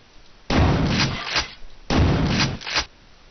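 Two heavy gunshots from Quake 2, each a loud booming blast with a short rumbling tail, about a second and a half apart, with no voices.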